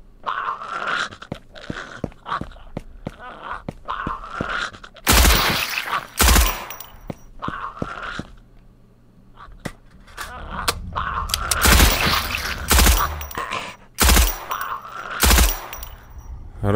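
Bursts of gunfire in the video game Delivery from the Pain, single cracks and rapid volleys, break out repeatedly over a busy background, with brief quieter gaps between the loud bursts.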